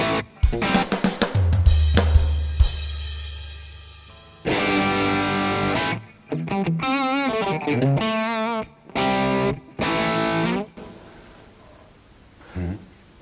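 A distorted electric guitar through a tube distortion pedal plays chords and sustained notes in separate bursts, thick and saturated with pauses between phrases, loud and close.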